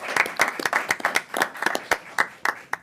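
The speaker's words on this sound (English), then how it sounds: "join me for applause for these retiring superintendents" Attendees at a school superintendents' council meeting applaud two retiring superintendents with brief, fairly sparse clapping, each clap distinct and the claps coming in a quick, even rhythm from a small group.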